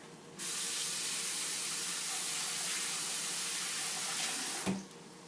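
Water runs steadily from a kitchen tap into a sink as a constant hiss that starts abruptly and continues, ending with a brief clunk.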